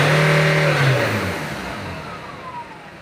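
A Nissan Navara engine with a low-power fault, one sharp throttle blip that climbs and then winds down as the revs fall back toward idle, loud and close, heard alone.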